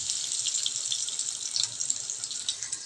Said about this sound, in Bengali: ততক্ষণ আমি একটু গাছগুলোতে জল দিয়ে নিই।